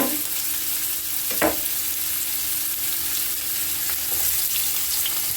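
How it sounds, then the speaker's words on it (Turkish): Onion sizzles as it goes into hot oil in a pan, a steady, fairly quiet frying hiss with a couple of brief clatters from stirring, and no one speaks. "Yağım ısındı. Hemen soğanımı koyuyorum."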